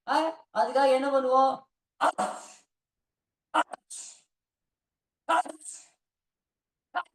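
Someone speaking Tamil in a talk on nasal remedies lets out several sharp sneezes, a few spaced bursts following his speech, close and moderately loud in an otherwise quiet room.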